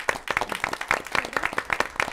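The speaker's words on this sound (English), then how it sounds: "I want to give them a big round of applause." A brief burst of clapping at a school board meeting, fairly close and uneven, with a handful of people applauding in a quick irregular patter.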